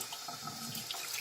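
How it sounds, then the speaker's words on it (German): Tap water runs steadily over a plate while art supplies are cleaned, a close continuous splashing rush with small spattering variations. "dann könnt ihr nochmal über diesen Teller mit Wasser drüber gehen"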